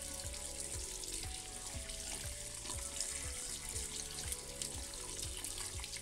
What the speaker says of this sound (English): wash parts thoroughly under warm ASMR water